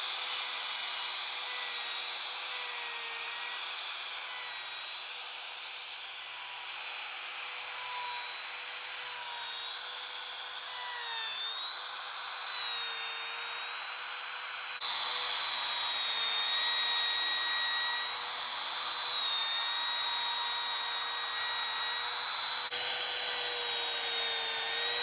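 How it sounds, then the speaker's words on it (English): A handheld router fitted with a bearing-guided bit cuts a neck pocket into a wooden guitar body, giving a steady high-pitched whine that holds for the whole stretch and grows a little louder midway, with no talk. "We got a little router bit with the following bearing to hit the side of that guy"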